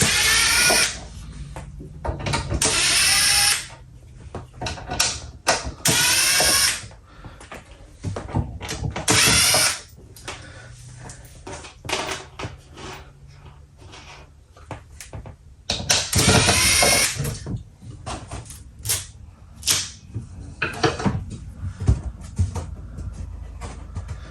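A power driver backs out short screws from an RV return air grill set into wood, giving several loud whirring bursts with pauses and rattling clicks in between, close up.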